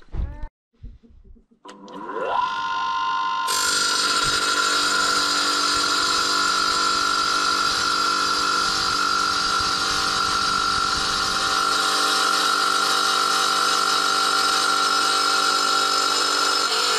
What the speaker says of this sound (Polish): Tak mi się wydaje, że czym więcej razy tnę, tym tarcza zostawia mniejsze wyszczępienia